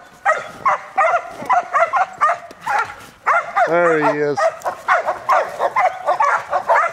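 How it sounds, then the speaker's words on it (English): A blue merle dog out in the snow gives one drawn-out, wavering vocal cry, close and loud, with people talking before and after it. "beautiful dog. He just loves out here in the snow."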